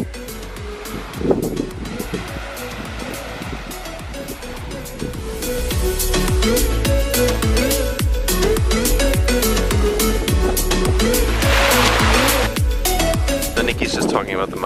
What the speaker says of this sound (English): you're listening to the sound of the waves all the time